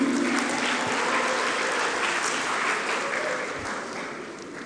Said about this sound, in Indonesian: Tepuk tangan untuk Rudi.